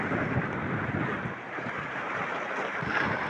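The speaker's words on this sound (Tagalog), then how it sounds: "Ang lakas ng alon kasi, maulan." Strong sea waves in rainy weather around a small fishing boat out at sea, a continuous rough rush of water and wind buffeting, loud and close with no voices.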